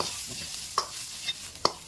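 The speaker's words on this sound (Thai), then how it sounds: "ผัดจนกว่าเขาจะมีกลิ่นหอม" Soft, steady sizzling of minced garlic frying in oil in a wok, broken by a few sharp spatula scrapes and taps against the pan.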